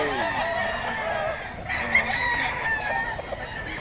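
Gamefowl roosters at a Bocaue market crow and cluck nearby over a busy background murmur, with several overlapping calls.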